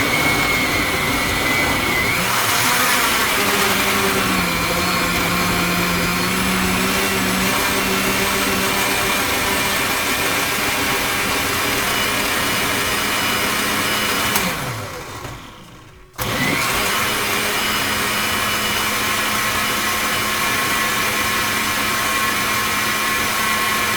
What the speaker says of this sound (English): Now I'm ready to mix the cantaloupe in my blender to make the juice.